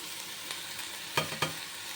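Chopped ingredients for gunta ponganalu frying in a pan, a steady close sizzle with two sharp clinks of a spoon stirring partway through.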